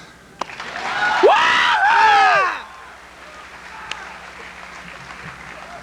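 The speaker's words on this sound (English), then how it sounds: "I think everyone here deserves a round of applause, so let's give each other a hand." At a 1993 graduation ceremony, an audience breaks into a short burst of applause mixed with whoops and cheers for about a second and a half, then fades back to quiet room murmur.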